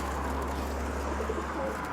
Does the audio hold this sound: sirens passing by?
no